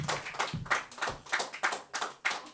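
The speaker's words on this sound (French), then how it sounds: "Merci de l'applaudir, s'il vous plaît" An audience at a slam poetry night claps for a poet in a steady run of hand claps, moderately close and without any voices over it.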